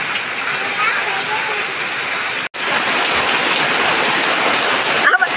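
Steady rain pattering on a surface, a dense close hiss throughout, briefly cut once, with faint voices underneath.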